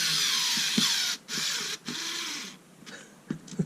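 A Snap-on electric screwdriver whirs steadily as it drives a screw, its motor cutting out briefly twice before trailing off into quieter clicks and a few short bursts near the end.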